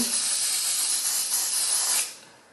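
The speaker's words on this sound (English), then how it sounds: "I just like to lift it under and spray." A steady, close hiss of a spray bottle misting under a wig for about two seconds, then cutting off and fading.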